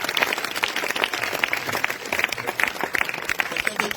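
A congregation at a French-language deliverance prayer service applauds in praise of Jesus, a lively patter of many hands with scattered sharper claps, steady and fairly close throughout.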